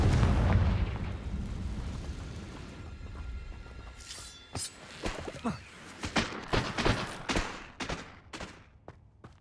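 Spell explosions in the Hogwarts Legacy video game: a heavy rumbling blast fades out, then a rapid series of sharp cracking bursts and shattering impacts, loud and close.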